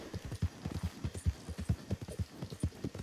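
A horse gallops in GTA with rapid, even clip-clop hoofbeats, steady and close throughout and without speech.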